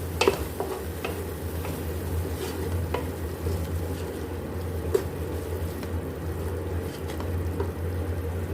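Spices, turmeric, coriander and salt, are stirred into mung dal and keema in a pan, with a steady low sizzle and occasional light scrapes and clicks of the spoon against the pan.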